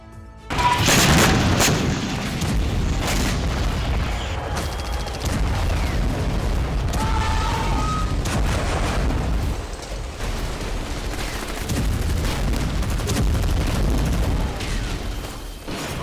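Artillery bombardment and gunfire during street clashes in the West Bank, with heavy booms and bursts of shots over a dense, roaring background that drops briefly before resuming.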